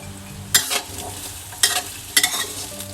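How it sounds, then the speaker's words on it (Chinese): Garlic and shallots being stir-fried in a pan for three-cup chicken, with a steady close sizzle broken by three louder bursts of stirring and scraping, and no talking. "我们也把这个葱头仔又要去爆香"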